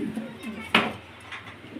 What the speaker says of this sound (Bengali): ডান পাশে নর বাম পাশে মাদি কবুতর